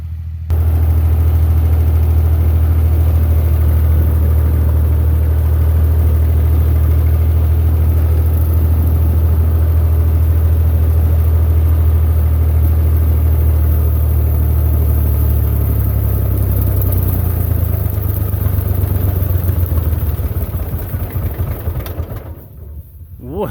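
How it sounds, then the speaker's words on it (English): A Massey Ferguson 35 diesel tractor runs steadily while mowing, its loud, low engine drone holding even for the whole stretch before easing slightly near the end. "Tractor's doing good so far."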